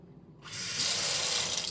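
Water from a sink tap bursts on after a brief silence and then runs steadily, a bright, close hissing splash that quickly builds and stays loud.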